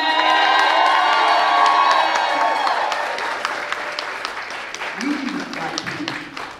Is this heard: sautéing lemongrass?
no